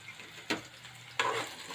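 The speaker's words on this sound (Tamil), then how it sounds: "நல்லா வதங்கட்டும்" Onions sautéing in oil for a red chicken gravy, a quiet sizzle with two short bursts of stirring scrapes in the pan.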